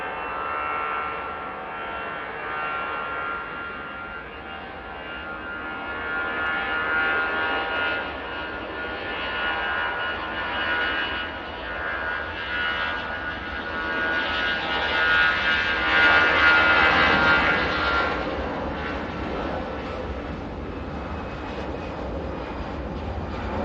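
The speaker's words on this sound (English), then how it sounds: "Easyjet A320 CEO now departing." easyJet Airbus A320ceo departing Manchester Airport, a jet engine roar at moderate distance that swells and fades in waves, with a thin whine rising above the rumble.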